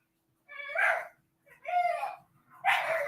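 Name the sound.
dogs barking in the background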